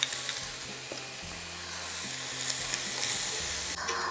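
Butter melts into apples in a frying pan, crackling and sizzling in a continuous hiss, with occasional soft clinks and stirring scrapes, close and fairly loud, with no talk.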